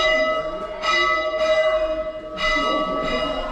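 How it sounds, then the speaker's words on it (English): A bell rings at a small railroad depot museum in Jonesborough, Tennessee, several clear repeated strikes with sustained ringing tones between them, fairly near and alone. "And you can hear the bell ringing."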